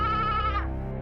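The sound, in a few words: goat bleating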